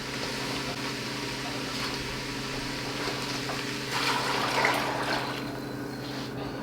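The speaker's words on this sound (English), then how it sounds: "gonna throw those in and I'm gonna cover them with water" Water from a tap pours over Great Northern beans in a cooking pot to cover them for bean soup, a steady close running rush that swells louder partway through.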